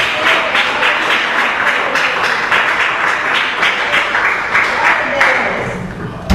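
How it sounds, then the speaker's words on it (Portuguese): A church congregation claps together in sustained, rhythmic applause that fills the room loudly and evenly, then fades slightly near the end. "Podem bater as palmas com glória a Deus."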